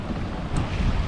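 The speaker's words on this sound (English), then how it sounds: "we're sailing dead downwind into Alcúdia Bay" A sailboat running dead downwind into Alcúdia Bay, Mallorca, with steady wind rush and water noise against the hull, a continuous broadband roar with no talking.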